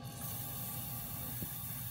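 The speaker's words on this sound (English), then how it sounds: "we're going to spray some of that lubricant down in there" Lubricant sprayed from an aerosol can into the landing gear screw of a Keystone Montana fifth wheel trailer, a steady close hiss lasting throughout without pause.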